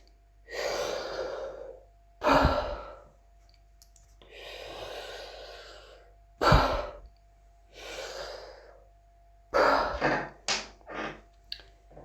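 Heavy, deliberate recovery breathing after an apnea breath-hold: long hissing inhales and exhales alternate with sharp gasping intakes, close and alone, with no talk.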